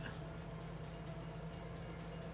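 Train departing in Farming Simulator 22, a low steady rumbling drone of rolling cars and engine hum, continuous and moderately distant, with no voices.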